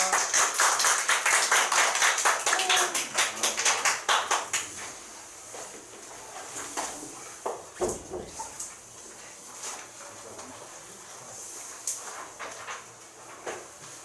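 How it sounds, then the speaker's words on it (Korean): An audience claps to welcome a lecturer on housing lease protection law, with dense applause at first that thins to scattered, separate claps and a few taps. "박수 모시겠습니다"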